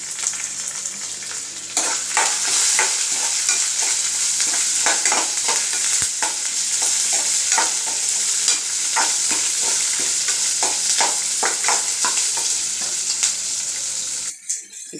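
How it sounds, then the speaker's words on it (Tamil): Black urad dal frying in oil with onion, curry leaves and coriander leaves while being stirred, a loud continuous sizzle with scraping stirring strokes that cuts off near the end. "இப்போ வெங்காயத்தையும் கருவேப்பிலை, கொத்தமல்லி இலை போட்டு நல்லா வதக்கிக்கிடலாம்."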